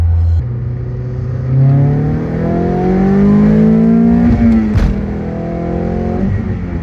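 A Toyota MR2 Spyder with a swapped-in 2AR engine pulls hard in first gear, its loud rising engine note climbing steadily from inside the car before a brief shift break and renewed revving.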